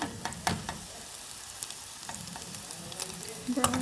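Hotdogs browning in a little oil in a frying pan, a close, steady sizzle with frequent crackles and a few clinks and scrapes near the end.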